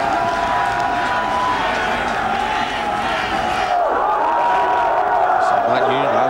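St. John's football fans cheer their team at a 2003 Division III national championship game, a broad distant crowd roar sustained beneath a commentator's steady talk, swelling slightly near the end.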